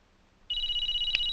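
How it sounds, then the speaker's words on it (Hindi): A telephone starts ringing abruptly, a loud, steady electronic trill sounding alone in a quiet room. "किसका फोन है?"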